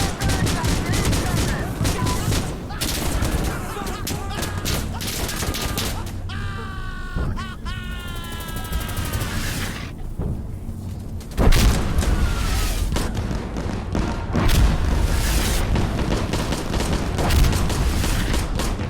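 Dense gunfire in the shooter game Insurgency Sandstorm, with an old rifle firing amid heavy bursts, booms and crackling volleys throughout, loud and near, with a voice talking over parts of it.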